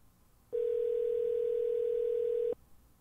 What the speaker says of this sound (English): So I'm calling him now.